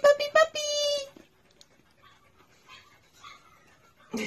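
Puppies whimper and yelp in short high-pitched cries up close at first, then fade to faint quiet whines and soft rustling before another cry at the end.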